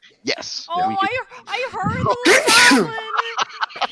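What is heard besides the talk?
sneeze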